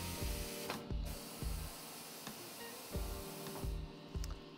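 Jaws on a TC-513B tire changer operate with a soft, repetitive mechanical clacking and ratcheting, steady clicks and thumps spaced under a second apart at low volume.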